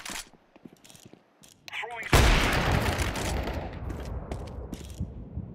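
Sustained machine gun fire in Counter-Strike 2 bursts in loudly after a quiet stretch and rattles on as a dense, continuous barrage, with players talking over it.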